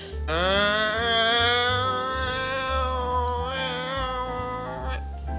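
A human voice imitates a dying cat's yowling, wavering cry, drawn out and pitch-bending, loud and close, with no other sounds.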